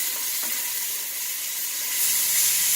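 Salted onions sweating in a pot for chili give off a steady, bright sizzle that swells slightly near the end, close and alone without speech.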